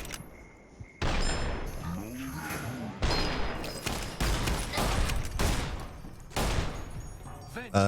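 Gunfire from Fallout: New Vegas in slow-motion bullet time, with several loud, heavy bursts and booming shots that come in clusters over a continuous game soundscape.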